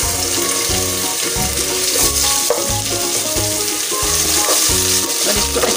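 Onion with garlic-ginger paste fries in a pan, giving a steady loud sizzle with rhythmic stirring and scraping throughout, with no talk.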